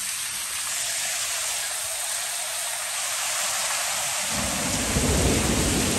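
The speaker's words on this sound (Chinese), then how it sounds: "雷电交加。" A thunderstorm pours heavy rain in a dense, continuous roar, with a deep thunder rumble swelling loudly near the end.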